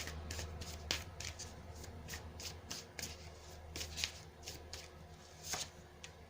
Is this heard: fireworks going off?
no